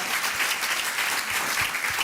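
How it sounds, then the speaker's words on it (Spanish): A church congregation bursts into strong applause during a sermon, a dense, continuous roar of many hands clapping close and loud, with no pause. "fuerte aplauso al Give Señor."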